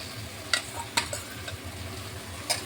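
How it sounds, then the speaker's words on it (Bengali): Raw green banana and potato go into a pan of fried ginger, green chilli and curry leaves, giving a soft sizzle under a few sharp spoon clacks and stirring scrapes, close by and with no talking. "যে আদা লঙ্কা কারি পাতাটা ভাজা হয়ে গেছে, এখানে দিয়ে দিচ্ছি কাঁচকলা আর আলুটা"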